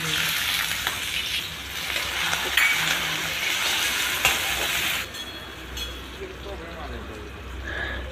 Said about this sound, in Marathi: कढईमध्ये 2 चमचे तेल घालून बारीक चिरलेला बटाटा घालून घेऊया